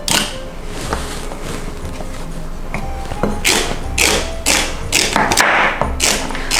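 A celery stick is chopped on a cutting board, producing a string of irregular knife thuds and taps, close and fairly loud, growing sharper and denser toward the end.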